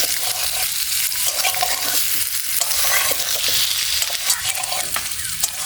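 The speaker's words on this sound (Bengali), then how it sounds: "ইঁচড় আর আলুটাকে এখন সুন্দর করে ভেজে নেব" Boiled jackfruit and potato fry in a pan with a steady, loud, close sizzle and occasional stirring scrapes, with no voices throughout.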